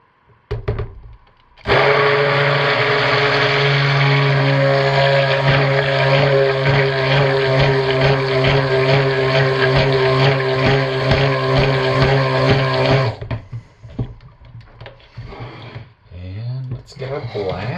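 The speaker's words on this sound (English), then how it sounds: "So let's get this stick blended in." A stick blender whirs continuously through lemon verbena cold-process soap batter, a loud steady motor drone with a sharp start and stop and brief clatter afterward.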